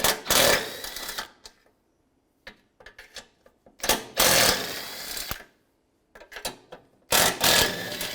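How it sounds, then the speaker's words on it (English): A 13mm socket wrench ratchets bolts loose from the radiator of a 2006-2011 Cadillac DTS. Several loud, close bursts of fast clicking are separated by short silences and a few faint knocks. "Take a 13mm socket in here. There's 4 bolts on each side. Take those bolts out."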